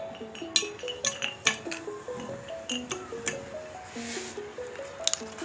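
Pieces of calcium carbide dropped into a container before a balloon is fitted over it, giving a series of light clinking, rattling impacts close by, irregularly spaced over several seconds, with no talk.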